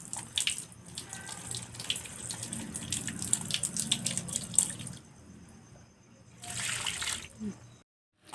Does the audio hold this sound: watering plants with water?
yes